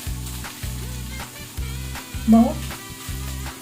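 Food sautéing in margarine sizzles steadily in the pan with a soft frying hiss, alongside a regular low pulsing background hum and a brief word spoken.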